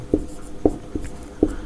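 Chalk or pen writing during a Hindi maths lesson, four distinct short taps and scratches spaced unevenly, close and moderately loud against a quiet room.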